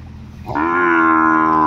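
A Sahiwal bull calf lets out one loud, long, sustained moo close by, following a brief quieter lead-in.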